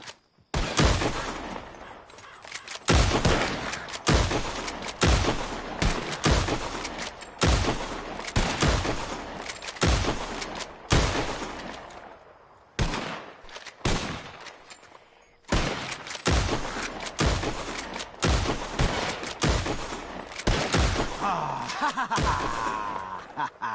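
Gunshots in Red Dead Redemption 2 as players fire at birds flushed into the sky, a long series of loud, sharp reports, some single and some in quick pairs, with short gaps between them, and no talk.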